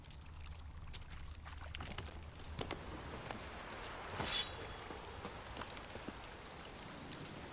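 Rain falls in The Witcher 3 as a steady, soft patter of drops on surfaces, accompanied by scattered sharper ticks and one brief louder splash near the middle.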